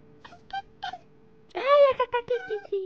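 Cat meowing in the Minecraft video game, several short in-game meows followed by a louder, longer drawn-out meow and a few more, mixed with a person speaking.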